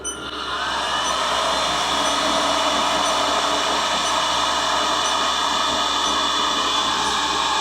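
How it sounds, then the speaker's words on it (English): A heat gun used as a paint stripping gun blows warm air into a sealed compartment of an NAB 17 boat under restoration, a steady loud whooshing hiss that starts up and holds constant. "just got a heat gun, paint stripping gun"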